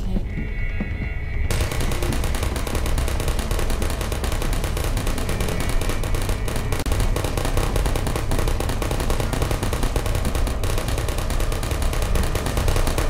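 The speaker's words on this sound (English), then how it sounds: "They're just endlessly shooting nothing." Automated turrets in the video game Portal fire continuously, a dense, loud, unbroken rattle of gunfire that starts abruptly after a second of quieter hum and carries on without pause.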